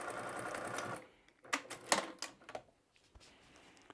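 A sewing machine basting the seam of a fabric bear body runs in a quick continuous stitching burst for about a second, then gives several short, separated stitch clatters, quiet and close.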